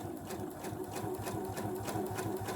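A sewing machine runs a gathering stitch in a steady, fast rhythmic chatter of needle strokes, close and continuous, with no voices over it.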